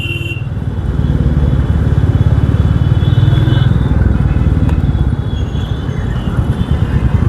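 A Royal Enfield Bullet motorcycle rides through Delhi traffic with a loud, close, steady thumping exhaust beat, while other traffic noise runs underneath and a voice briefly speaks at the start.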